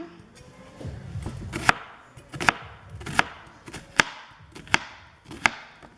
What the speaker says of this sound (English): I'm gonna chop up this onion really fine.